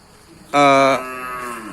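A cow at a cattle market gives one loud, close moo that starts abruptly, then trails off into a quieter, lower lowing tail.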